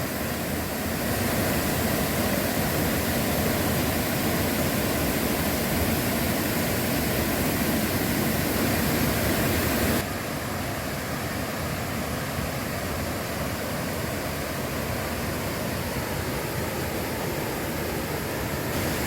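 Steady, full-bodied rush of water pouring down the second tier of a waterfall into a deep, wide pool at Chet Sao Noi National Park. The roar is continuous and close, dropping slightly in level partway through, with no voices.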